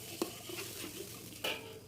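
A pan of chili sambal for rendang, made from about 300 grams of chilies blended with water, stirred as it cooks: soft scraping and stirring strokes with a light sizzle, close and quiet, no talking.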